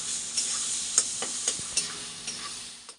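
A vegetable paste made from scraps stirred in a pan on the stove, a soft continuous sizzle with periodic scraping strokes of the spoon, close and steady throughout.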